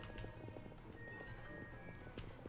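Rapid hoofbeats of a horse galloping in a race in the Star Stable video game, a steady quick rhythm, fairly quiet under a background music bed.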